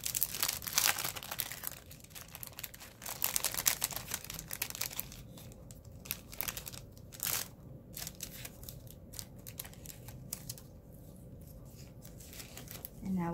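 Crinkling, rustling handling of an I love you sticker being prepared for DIY Valentine's wall decor, with close crackling and crisp bursts that continue steadily throughout.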